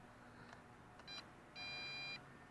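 Radio transmitter for a Bugs 3 Mini drone being switched on, giving a few faint electronic beeps: short tones followed by a longer steady beep, quiet against a low background hum.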